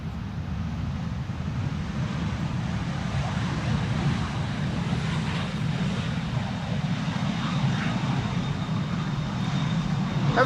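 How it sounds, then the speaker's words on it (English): A Lufthansa airliner on arrival at Amsterdam Schiphol Airport in gusty crosswind gives a steady, loud engine roar and rumble, with wind buffeting the microphone throughout. "Lufthansa, flight 2302, coming in from Munich."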